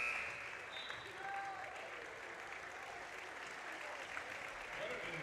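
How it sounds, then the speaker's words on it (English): A round of applause fills a high school gym during a boys' 4A substate final basketball game as a senior forward's playing career winds down, steady and moderately distant, with a few voices mixed into the crowd. "And Hatlovig, the senior forward, receiving a round of applause."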